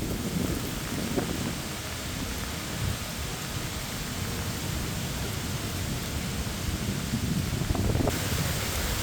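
A flooded river rushes against a bridge during Hurricane Helene, a steady, loud broadband roar of churning water with wind and no clear breaks.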